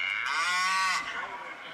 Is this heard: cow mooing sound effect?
yes